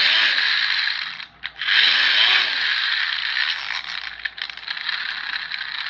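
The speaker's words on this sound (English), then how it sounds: "See the ratchet effect. I can stop the handle and the propeller or the fan keeps going." A child's hand-cranked toy fan turns with a steady, loud ratcheting whir of clicking pawl and spinning blades, running continuously with a brief dip partway through before picking back up.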